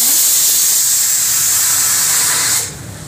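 Almonds and sunflower seeds hit hot ghee with one cardamom pod in the pan, giving a loud, close, steady sizzling hiss that drops off sharply near the end.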